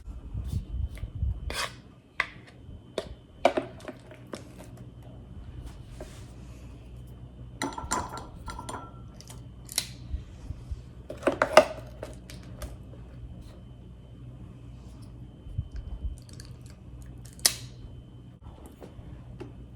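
A spoon scrapes and scoops two berry frozen yogurt from a container, with scattered sharp clinks of utensil on dish between quieter scraping and long lulls, close by.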